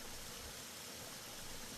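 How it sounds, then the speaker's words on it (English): Waterfall on a hiking trail near the Bay of Fundy, a faint steady rushing of falling water, broad and continuous with no other sounds. "We reached the first waterfall."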